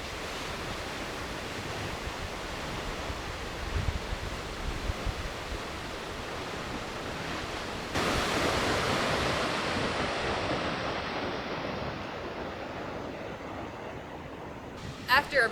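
Havasu Falls waterfall, pouring with a steady roaring rush that sounds like surf; the broadband wash holds level throughout, growing slightly louder partway through, with a few brief bumps near the end.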